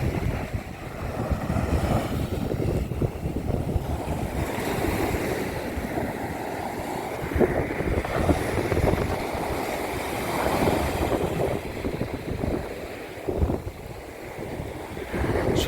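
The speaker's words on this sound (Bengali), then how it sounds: "ফ্রেজারগঞ্জের সমুদ্র।" Sea waves roll and crash at Fraserganj beach while strong wind buffets the microphone, a continuous loud roar of surf and gusts with no talking.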